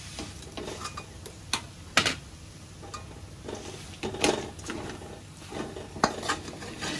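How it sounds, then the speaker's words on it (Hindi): Dates and dry fruits are stirred in a pan with a spoon, giving irregular scraping and metallic clinks against the pan, close up, over a faint sizzle. "अच्छे से मिक्स हो गया है, 2 मिनट हो गए सबको मिलाते हुए"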